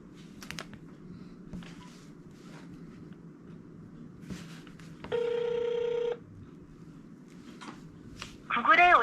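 A telephone rings once with a steady electronic tone during a call to the Google customer service line. Faint background noise precedes it, and a brief louder sound follows.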